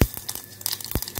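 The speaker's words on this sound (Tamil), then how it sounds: "கடுகு நல்லா பொரியட்டும்." Mustard seeds spluttering and popping in hot sesame oil, tempering for chutney: a few sharp, close crackles and pops spread over a second, with no talk.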